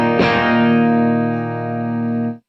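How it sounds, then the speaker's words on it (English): Electric guitar run through a Kemper profiler on a cleanish Vox AC30 amp profile, a single strummed chord ringing out with slight breakup and sustain, then cut off, close and alone. "into the Kemper, which is on a cleanish Vox AC30 profile"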